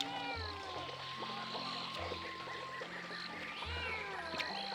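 A cat meows repeatedly in a home kept by an elderly woman, the short calls rising and falling over a steady background murmur, fairly faint with no clear talk.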